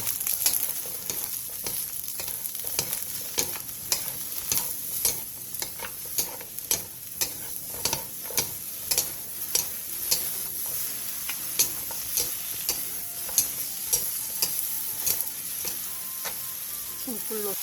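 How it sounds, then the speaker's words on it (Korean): Eggplant stir-fried in oil in a pan on medium-low heat: a steady close-up sizzle runs throughout, broken by frequent sharp clicks and scrapes of a utensil stirring against the pan, with no talking. "팬에 기름을 두른 뒤 가지를 넣고 1분 정도 볶다가 중약불로 줄여"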